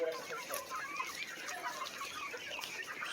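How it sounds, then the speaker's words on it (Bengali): Chickens cluck softly while eating in the morning, a busy scatter of faint clucks and pecks at a farm, no talk. "সকালবেলা খাওয়া করতেছে মুরগিগুলো।"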